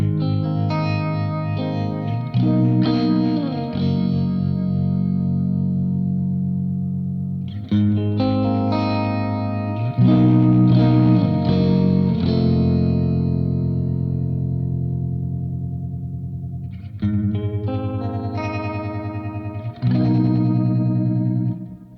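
An electric guitar played through a Keeley Hydra with reverb and tremolo strums several shimmering chords in repeated phrases. Each chord rings out with a wavering, washy sustain.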